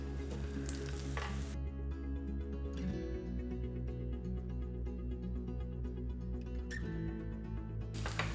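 Paratha fries in desi ghee on a pan with a steady, close sizzle throughout, punctuated by brief scraping and shuffling bursts as it is turned and pressed.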